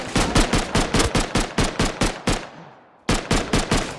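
Rapid automatic AK rifle fire in Rust, loud and close, a steady string of about a dozen shots, a brief pause as the reverb fades, then another quick burst.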